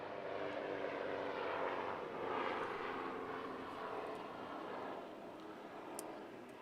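A propeller aircraft passes overhead above a wakeboard championship, its engine drone swelling and fading as a broad, steady, moderately distant roar with no voices.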